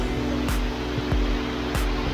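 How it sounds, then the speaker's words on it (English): Water from an underground river pours out of the side of a rock face as a waterfall in the rainy season, a dense, steady roar with brief louder splashes. "All this water is coming directly out of the side of the rock"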